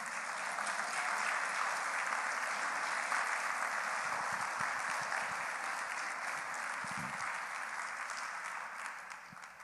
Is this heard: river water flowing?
no